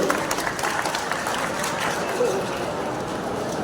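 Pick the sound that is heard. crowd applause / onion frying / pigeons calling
crowd applause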